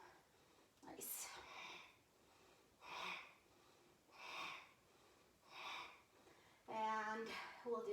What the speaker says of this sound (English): Exhale all the way out, inhale.